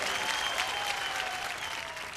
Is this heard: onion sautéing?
no